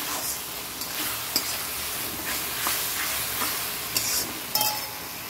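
Spice masala for mango fennel mutton sautés in a pan with a soft, even sizzle, punctuated by occasional spoon knocks and scrapes as it is stirred.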